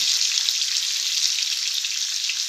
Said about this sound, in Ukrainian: Сковородочка шкварчить.